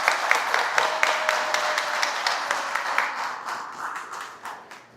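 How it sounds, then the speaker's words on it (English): A crowd gives a big round of applause welcoming Ms. Burkhart, Del Rio's new city manager. The dense clapping stays loud and steady, then gradually thins and fades toward the end. "Big round of applause."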